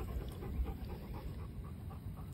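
A puppy pants outdoors at a park in quick, soft, rhythmic breaths, close but faint, continuing steadily without pause and with no voices over it.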